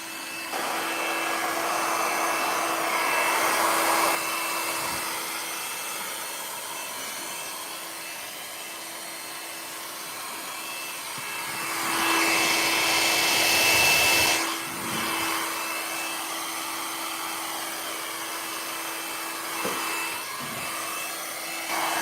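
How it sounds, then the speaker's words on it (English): A blower pushes a steady, whooshing stream of air across wet epoxy resin to clear moisture marks, a continuous airy hiss that swells louder twice, with no talking. "now you can see where the moisture marks are. So we want to blow those off."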